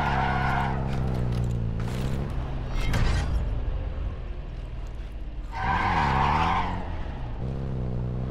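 A car driven in Call of Duty Modern Warfare III: a loud engine revving up and down with rising and falling pitch, tire squeals and skidding, and a brief thump midway, all close and continuous.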